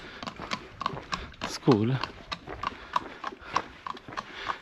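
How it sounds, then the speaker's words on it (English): Horses clip-clopping past on a countryside trail in Malta, a steady run of hoof knocks close by, with one snort-like vocal burst from an animal and a voice speaking over it. "There even are people passing with their horses here."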